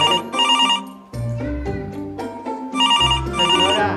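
A telephone rings during a Christmas gala show in Vejer, playing a tonal ringtone melody in repeated phrases, loud and bright, with short pauses between bursts and no talking over it.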